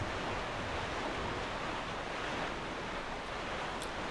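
Steady rushing sea waves and wind while sailing in the video game The Legend of Zelda: The Wind Waker, a continuous broadband wash with no talk.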